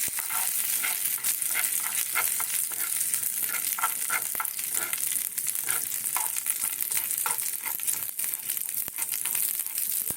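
Semolina, cashews and raisins frying in ghee, a close continuous sizzle broken by scraping stirs and crackly crinkling bursts at an uneven rhythm.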